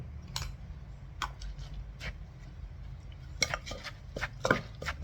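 Dried shrimp, large and fine, being mixed into pounded seasoned tamarind, heard as scattered clinks and scrapes of a utensil against a bowl, with irregular close taps over a quiet low hum.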